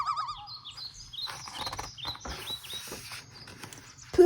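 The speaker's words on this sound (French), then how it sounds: "Un oiseau lance les premières notes de l'aurore." A bird sings at dawn, with clear chirping and warbling phrases of varied pitch, fairly close and moderately loud, over soft low background hum, no speech.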